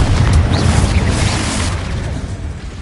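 A Confringo fire spell goes off in the video game Hogwarts Legacy, giving a loud, dense, booming blast with a rumbling, noisy tail that fades slowly and has no talk over it.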